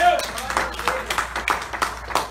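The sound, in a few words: congregation clapping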